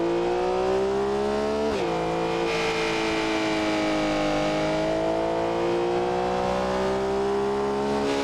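A BMW chasing a Porsche in BeamNG Drive, engines revving hard with rising and falling pitch and a sudden gear-shift dip, close and loud, continuous with no talk.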